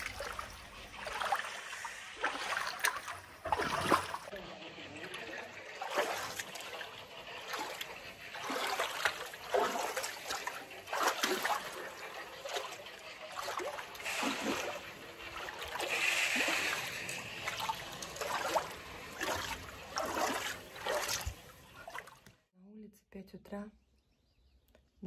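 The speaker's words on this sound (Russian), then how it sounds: "рабочим потребовался шланг с водой" Water runs from a hose filling an outdoor pool, a steady trickling and splashing under people talking nearby.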